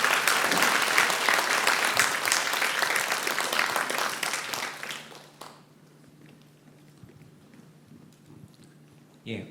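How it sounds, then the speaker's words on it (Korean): Loud, dense applause from a conference audience greets a keynote speaker walking on stage, sustained for about five seconds, then dropping to quiet room tone with faint rustling. "큰 박수로 맞아주시기 바랍니다."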